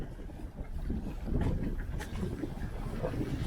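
Strong wind buffets the microphone in a steady low rumble during a fishing trip, with faint splashes and creaks like a boat on the water.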